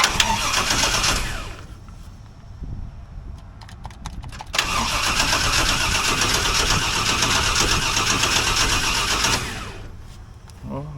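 A 1968 Chevrolet C10 starter cranking the engine in neutral, a loud steady grinding whir in two long bursts with a brief quieter gap between them and a faint tail at the end.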